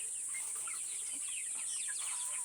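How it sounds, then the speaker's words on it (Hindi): Black Australorp chickens, an Australian breed, cluck and chatter softly in a flock, with scattered short calls under a steady high insect-like hiss. "ये ब्लैक एस्ट्रोलॉर्प है, ऑस्ट्रेलिया की ब्रीड है"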